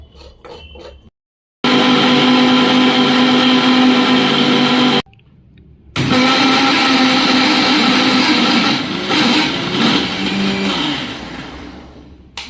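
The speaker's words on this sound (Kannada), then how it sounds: "ಮಿಕ್ಸಿಗೆ ಏನೋ ಆಯ್ತೆ, ಸ್ವಲ್ಪ ಸೌಂಡ್ ಬರ್ತಾಯಿದೆ ಅಲ್ವಾ?" A faulty household mixer grinder whirs loudly as it grinds grated coconut, running in harsh, droning bursts that cut out twice for short pauses before starting up again and gradually easing off.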